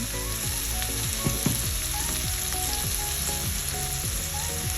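Vegetables sizzle and crackle in hot oil alongside a Cornish hen, a steady close frying hiss with scattered pops and light stirring.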